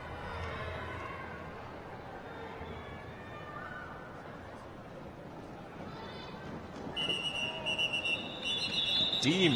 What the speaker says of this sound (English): But the whistle goes.